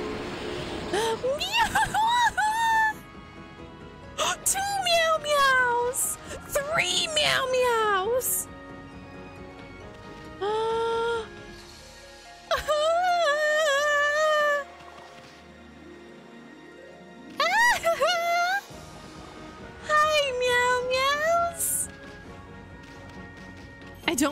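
Cartoonish cat meows from the video game Okami come in several separate bursts of rising and falling cries, loud and close, with gaps of quiet between them and game sounds around.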